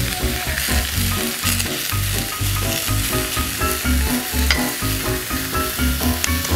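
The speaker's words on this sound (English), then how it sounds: "While the mushrooms are sauteing" Mushrooms sauté in a pan with a loud, steady sizzle close by, broken by rhythmic scraping as they are stirred.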